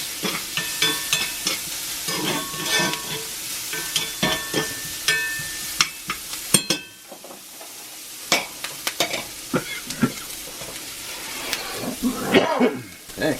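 Jalapenos sizzle and crackle in a cast iron pan, with frequent utensil scrapes and clanks against the iron over a continuous frying hiss; a brief cough breaks in partway through.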